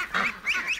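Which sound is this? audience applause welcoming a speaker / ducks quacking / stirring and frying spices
ducks quacking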